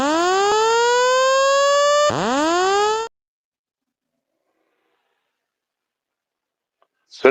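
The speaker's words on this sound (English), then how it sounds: "See, it's got the siren." Police siren from a video game wailing loudly with rising and falling sweeps for about three seconds, then cutting off to near silence before a brief burst at the very end.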